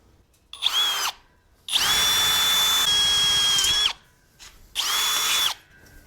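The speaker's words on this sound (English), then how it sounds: "Let's just make sure the drill bit will, yeah, it'll go in there." A power drill spins up in three bursts while boring a hole during an off-road trailer build, a loud whining motor with a short rev, a longer steady run, then a final burst, close and unaccompanied by talk.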